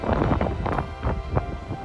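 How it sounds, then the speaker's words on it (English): Steady gusty wind in a village near Tromsø, Norway, buffets the microphone, a loud low rumble with rustling flutters and no voices. "It is very windy."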